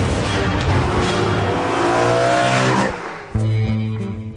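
A 2008 BMW M3 engine revs hard under acceleration, a loud sustained roar that climbs in pitch, then drops briefly before a fresh surge at the end, close and with no voices.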